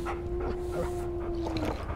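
Dog in Far Cry Primal whimpering with a long high whine over a rough ambient bed, a few short yips mixed in, fairly close.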